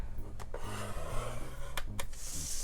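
Cardstock being scored for a gift box: short rubbing, scraping strokes of a tool pressed along the card, close and fairly quiet, with a few sharp taps between.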